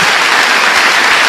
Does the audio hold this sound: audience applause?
yes